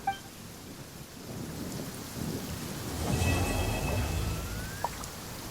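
Thunder rumbles over steady heavy rain in the Genshin Impact video game, with a loud crack at the start and a deeper roll building midway through the shower.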